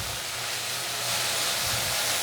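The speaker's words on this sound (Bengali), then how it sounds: "আমি এভাবে নেড়ে চেড়ে ভেজে নেব" Tender jute leaves frying in a pan with salt and turmeric give off a steady, close sizzling hiss that swells slightly partway through, with no voices.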